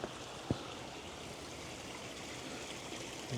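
Fountain water flows steadily into a koi fish tank, a faint continuous trickle and splash with one small knock near the start, no voices.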